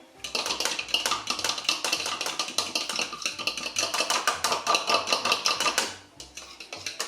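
Ingredients for an apple cake are beaten together in a bowl, a fast rhythmic series of clattering knocks and scrapes, close and fairly loud, pausing briefly near the end before resuming.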